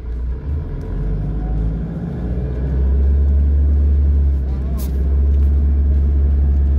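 A car with traction control, ABS and stability control switched off grinds its way out of a boggy patch, its engine giving a low, strained rumble that swells as the revs build and the tyres churn.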